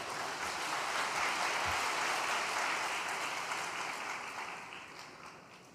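Sustained applause from an indoor audience welcoming a speaker to the stage at a testimony event, a steady dense wash of clapping that gradually fades toward the end.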